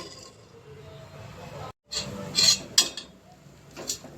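Stirring and scraping of ginger, garlic and shallot paste being sautéed in a pot for mutton biryani, with clinks and taps of a utensil against the metal, scattered unevenly over a low background.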